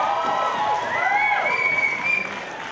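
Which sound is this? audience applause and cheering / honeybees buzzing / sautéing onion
audience applause and cheering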